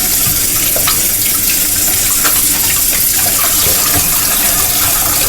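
Water runs hard from a kitchen tap as a pot used for marinating chicken is rinsed out, a loud continuous gush with sloshing and clatter against the metal.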